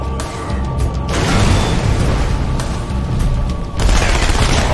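Heavy explosive blasts and rumbling booms from a satchel charge blown on a gate in the Halo 2 campaign, loud and sustained, with a fresh surge of detonation near the end and no talk over it.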